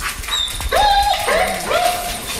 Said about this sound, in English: Another brings in a German Shepherd on a leash.